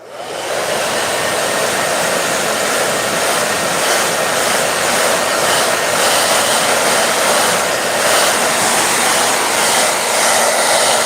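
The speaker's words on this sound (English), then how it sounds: "I'm going to turn on the hair dryer" A hair dryer blows continuously at close range over a wet wax pastel art surface, a loud steady whooshing roar that holds for the whole stretch.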